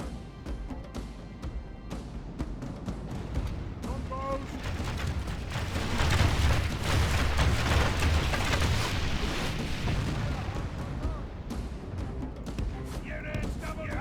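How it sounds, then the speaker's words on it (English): Artillery and battle noise in Medieval Total War II, with catapults firing in a siege, heard as a continuous dense rumble with scattered impacts and a voice talking over it. "let's provide some counter artillery"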